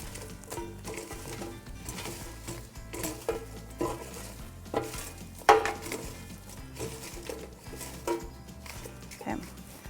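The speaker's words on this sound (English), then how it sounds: "you gotta be gentle stirring the French fries" Tongs gently stirring French fries in an Instant Pot Vortex air fryer basket, light clinks and rustling scrapes in irregular bursts, with a person talking throughout.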